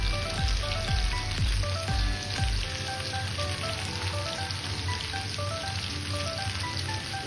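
Chopped onions frying in a pan for chicken curry give a dense, steady crackling sizzle, close and even throughout, with a few low thumps from stirring at the start.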